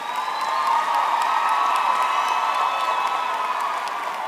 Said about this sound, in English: let's give a warm round of applause to all of our graduates and say congratulations